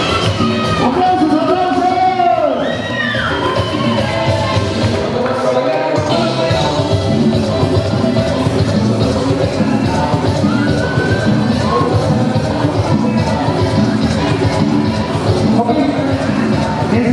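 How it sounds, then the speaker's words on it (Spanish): A loud party crowd at a quinceañera cheers, whoops and shouts continuously in a large hall, a dense sustained roar of many voices with applause mixed in and an amplified voice briefly audible early on. "¡Aplausos,"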